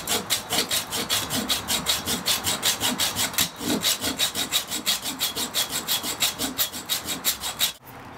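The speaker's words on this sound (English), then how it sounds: "I'm going to cut it in half with a hacksaw now" Dull hacksaw blade cutting through the tough casing of a Headway LiFePO4 lithium iron phosphate battery cell, a steady rapid back-and-forth rasping of even strokes, close and loud throughout, stopping abruptly near the end.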